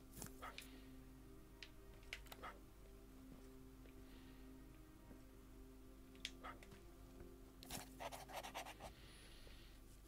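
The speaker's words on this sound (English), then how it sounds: "I can hear the dog, can't see it." A dog pants and whimpers somewhere out of sight in the Terminator Resistance video game, faint breathy bursts and short yips scattered over a low ambient hum.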